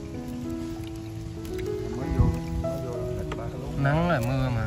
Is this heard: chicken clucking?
no